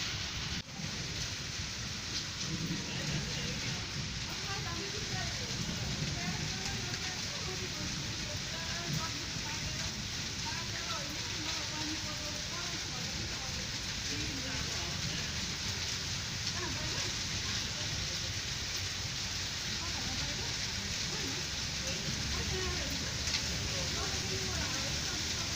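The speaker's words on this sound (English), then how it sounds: "It's raining time." Rain falling in Abu Dhabi, a dense continuous patter and hiss holding steady from start to finish, close and fairly loud, with no talk standing out above it.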